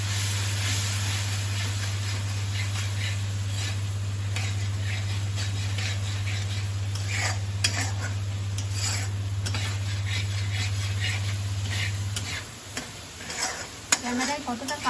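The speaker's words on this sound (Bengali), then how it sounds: "মশলাটা যাতে জ্বলে না যায় তাই অল্প একটু জল দেবো, যাতে ভালো করে কষাতে পারি মশলাটাকে" Spice masala for chana masala frying in a pan with a little water added, a steady sizzle and hiss with repeated stirring scrapes over a low hum that cuts out near the end.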